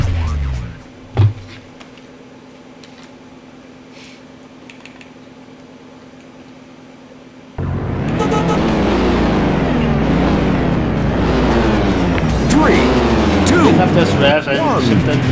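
A race car engine in Need for Speed: High Stakes idles quietly, then bursts into loud, rising and falling revs as the race starts, with overlapping engine whines continuing to the end.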